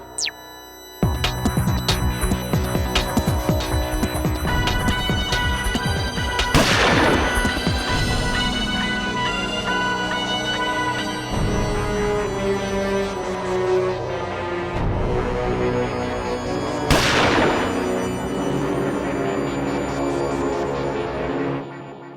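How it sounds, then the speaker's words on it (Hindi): Two sharp gunshot bangs, played back in a video, ring out several seconds apart over loud, continuous music, each fading with a short echo. "मैंने गोली चलने की आवाज तो सुनी"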